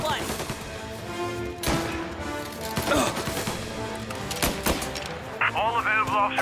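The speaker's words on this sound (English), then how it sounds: "Report of gunshot." Dense, rapid gunfire crackles through a shootout in the video game Mafia: Definitive Edition, with bursts and single shots overlapping continuously while in-game voices shout and a radio dispatcher speaks underneath.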